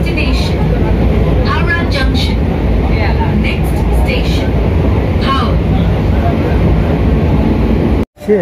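A train moving at Mecheda station, a loud, steady rumble and rush that persists throughout, with people talking over it close by and a brief dropout near the end.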